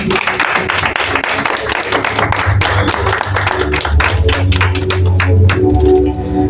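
A church congregation claps in a dense, steady burst for several seconds, the sound loud and close, with music playing underneath.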